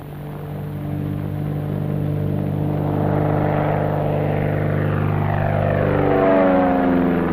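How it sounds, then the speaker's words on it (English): A crop-dusting airplane flies low back over a desert farm field, its steady propeller drone loud and close, then sweeping past with a falling Doppler pitch shift near the end. "Then the plane will return to the field, where, guided by the flagman, it completes its job."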